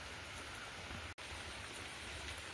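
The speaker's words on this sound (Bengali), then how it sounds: "এত বৃষ্টি হচ্ছে সারা দিন রাত" Steady, dense rain falls without a break during a long rainy spell at a home, making an even, continuous hiss with no voices.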